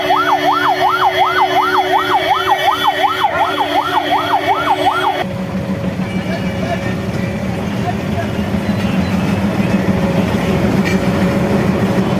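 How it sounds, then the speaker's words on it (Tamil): A wailing siren cuts off, giving way to the heavy, steady rumble and clatter of a freight train rolling past nearby. "அதன் பிறகு சரக்கு ரயில் புறப்பட்டு சென்றது"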